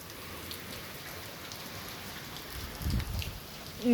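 Heavy downpour of rain falling steadily as a dense, even hiss, with a brief louder low rumble near the end.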